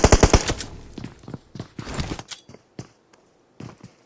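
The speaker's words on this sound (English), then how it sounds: "Beach getting shot down to 1 HP" Gunfire in a pro league esports video game match, a rapid close burst of automatic fire followed by scattered shots and short bursts that thin out into sparse single cracks.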